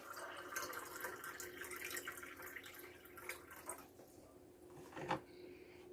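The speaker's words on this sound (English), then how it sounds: "Now let's go ahead and add 16 ounces of water" Cold water poured into powdered milk, a running, splashing trickle that stays fairly quiet and steady, ending with a small splash near the close.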